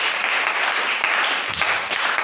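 A church congregation applauds during an evangelical service, a dense steady wash of many hands clapping at close range with no gaps.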